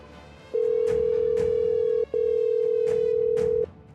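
A steady telephone tone rings in two long bursts, each about one and a half seconds with a short gap between, close and clear, over faint background noise, before a call goes through.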